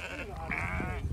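A single drawn-out bleat from a fat, heavily pregnant sheep on a Peak District farm before lambing, close and fairly loud, wavering in pitch over a second or so with no talk.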